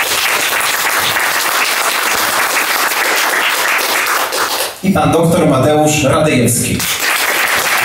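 Loud, sustained audience applause at the close of a Polish debate on direct democracy, broken midway by a voice announcing a name before the clapping carries on.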